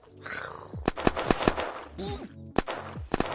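Several sharp gunshots in the video game Unturned crack out in quick bursts, mixed with grunting voices and chaotic game effects.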